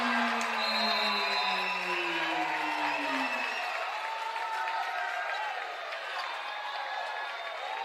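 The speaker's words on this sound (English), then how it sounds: "Listen to the crowd for the Chipola Indians." Crowd at a Chipola Indians college basketball game against Northwest Florida, a broad roar of cheering and clapping in an indoor arena, with a buzzer-like tone early on, gradually easing and thinning out.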